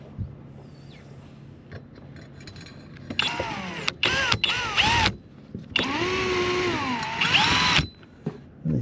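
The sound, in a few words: power drill drilling through metal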